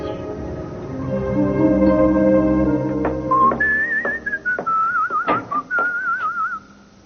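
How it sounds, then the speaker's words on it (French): A person whistles a wavering, melodic tune while walking into an office. The whistling is close and clear, over a low hum, with no talking. "tu ne sais pas que ça porte malheur de siffler en entrant dans un bureau?"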